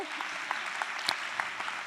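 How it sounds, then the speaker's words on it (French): Soft, continuous applause from a conference audience thanking participants at a session on European asylum policy, distant and fairly faint with a few sharper claps. "on peut les applaudir à ceux qui ont participé à cette réflexion"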